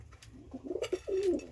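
A pigeon in a loft gives a few soft, low cooing notes at close range, ending in a longer drawn-out coo, with a quiet background.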